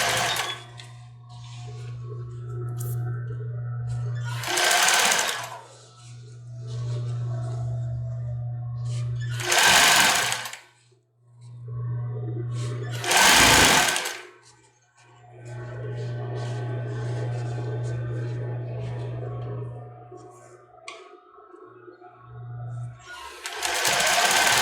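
Sewing machine stitching a cropped top in short bursts, about five runs of steady whirring separated by brief pauses, with louder broadband thumps or handling noises between runs, close and alone.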